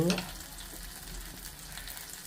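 Raw mango and tomato pieces fry in a pan for a prawn-shell curry, a low steady sizzle with faint stirring scrapes, near and continuous with no voices.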